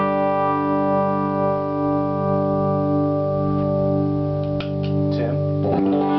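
A clean electric guitar, a Prairie Wood, rings with sustained, bright harmonic notes that hold steadily, followed by a few lightly plucked strums near the end.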